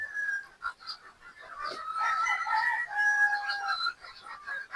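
Boston Roundhead gamefowl, fourteen birds penned together, fill the air with steady clucking and calls, close by and continuous with no one speaking.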